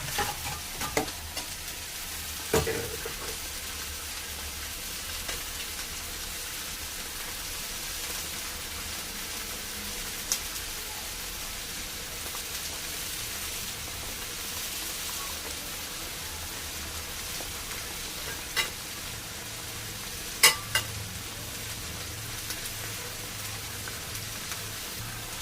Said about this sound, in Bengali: ঝোলটা ফুটছে, এবার দিয়ে দেবো মাছগুলো।